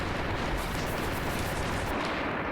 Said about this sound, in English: she's gonna pull out this big cannon